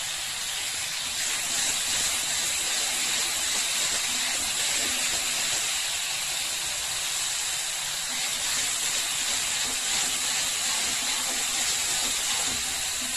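Seblak spice paste frying in a pan, a steady, loud, continuous sizzle and hiss with no break and no talking.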